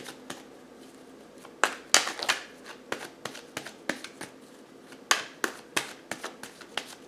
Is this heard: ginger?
no